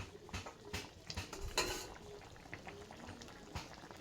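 Soybean curry gravy simmering in a pot, with a soft, quiet bubbling, a few gentle clinks of a spoon against the pot and one brief louder burst of liquid movement.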